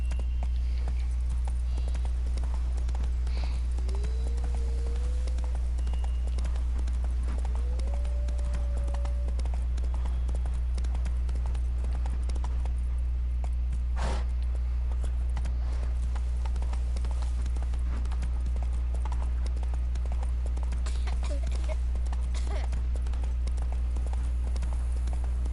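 Horse hooves clip-clopping in a steady galloping rhythm in the video game Witcher 3, continuous and close over a constant low game backdrop, with faint voice sounds now and then.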